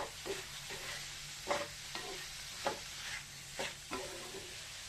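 Eggplant pieces fry in a pan while being stirred now and then, with a faint continuous sizzle broken by several soft scrapes at a quiet, close distance.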